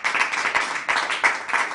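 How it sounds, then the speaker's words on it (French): A studio audience claps for a guest, Thomas Joubert, on a televised bullfighting show, a short burst of dense, steady applause at moderate loudness with no voices. "Bonsoir Thomas, on vous applaudit."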